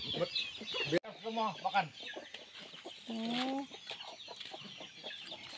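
Free-range village chickens cluck and call close by while they feed outdoors, with a short rooster crow-like call in the middle and someone speaking briefly over them.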